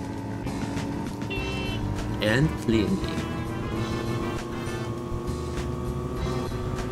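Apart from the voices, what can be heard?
Porsche engine in Need for Speed Porsche Unleashed video game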